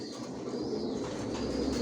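Grizzle racer pigeons coo in a loft, a steady low murmur of overlapping calls that runs continuously at moderate loudness, with no voices.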